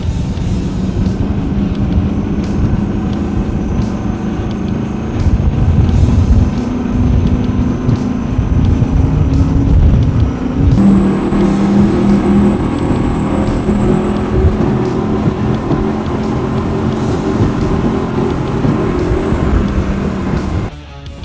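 A powerful powerboat engine roars steadily and loud throughout, with the pitch climbing partway as it revs higher, plus a thin whine above it.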